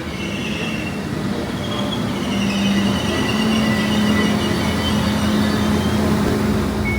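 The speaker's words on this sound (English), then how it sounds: "So our next train will be arriving very soon, the 1423 Transport for Wales service to Manchester Piccadilly" Transport for Wales passenger train pulling into Gowerton station, a steady loud rumble of wheels on rail with drawn-out brake and wheel squeal tones rising over the roar, no voices.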